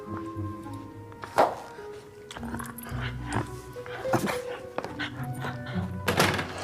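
Small dog Binky gives a few short whimpers and yips indoors, scattered between soft thumps over a quiet room background, fairly close and moderate in level.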